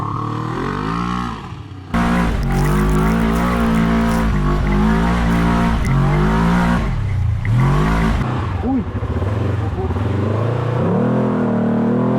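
An off-road buggy drives a lap, its engine loud and close, revving up and down with shifting pitch as it accelerates and slows through turns, with some voices faintly underneath.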